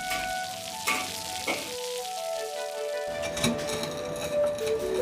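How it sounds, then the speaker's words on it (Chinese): Dried flounder meat deep-frying in a wok gives a steady close sizzle throughout, with occasional clinks of utensils and no talking. "下锅炸至酥透"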